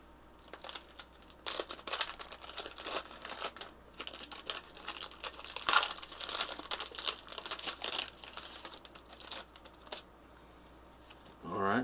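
1988 Topps Big Baseball wax packs being torn open, with crinkling wax paper and sharp tearing bursts close to the listener, quiet overall, with a low voice heard in between.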